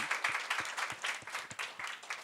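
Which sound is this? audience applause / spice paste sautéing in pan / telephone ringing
audience applause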